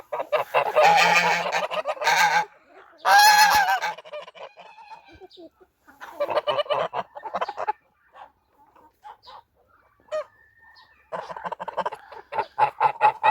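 Farmyard geese honk in loud bursts, alternating with quieter stretches of clucking and other fowl calls, close by.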